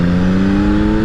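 Engine of a 2021 Yamaha MT-09 motorcycle revving under acceleration, a loud, steady droning tone held close and alone with no pause.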